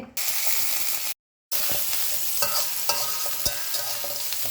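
Shallots, green chilli and garlic sizzle and fry in hot oil, a steady close crackle with stirring clatters, briefly cut to silence midway, no voices.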